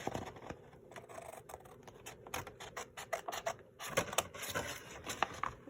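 Scissors cutting out a manila folder paper piece at a desk, with a series of close crisp snipping and rubbing scratches that grow denser toward the end, over a low steady hum from a space heater.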